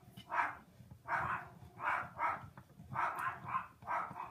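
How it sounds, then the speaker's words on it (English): Dogs bark repeatedly outdoors in a steady run of sharp, evenly spaced barks, moderately distant and fairly faint, with no voices over them. "them dogs are barking like crazy."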